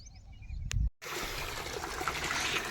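Water from an electric motor pump pours steadily into a trough for buffaloes in a village enclosure, a constant splashy trickle that begins after a short break, following a few brief knocks and rumbles.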